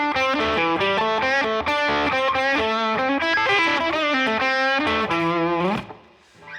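Distorted electric guitar plays a fast blues lick with quick hammer-ons, a busy run of bright sustained notes ending in a fading ring, loud and close with no talk.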